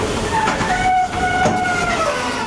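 A gold dredge's bucket ladder tears material from a riverbed with a steady, loud, grinding mechanical roar carrying high, squealing metallic tones, heard continuously and close with no voices.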